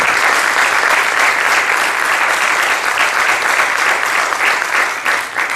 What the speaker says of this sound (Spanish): os quiero pedir que demos un aplauso muy gordo